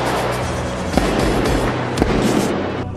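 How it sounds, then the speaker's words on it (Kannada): Diwali firecrackers bursting in a dense, continuous crackle, with a few sharper bangs standing out at intervals and no voices. "ಪಟಾಕಿ ಹಚ್ಚಬೇಕು, ಢಾಮ್ ಢೂಮ್ ಅಂತ ಸೌಂಡ್ ಬರಬೇಕು"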